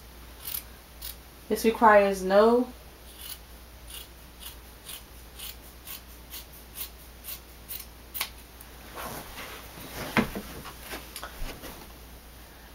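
Scissors cut across a cheap knit sweater being turned into a no-sew beanie, giving a quick cluster of crisp snips close by, followed by faint rustling while someone talks.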